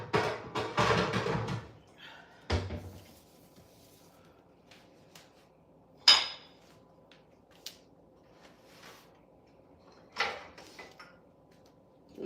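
Pans being put away into a kitchen cabinet, with a few separate clattering knocks and door-like thumps spread out over a quiet room, moderately near.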